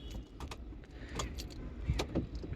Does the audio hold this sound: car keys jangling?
yes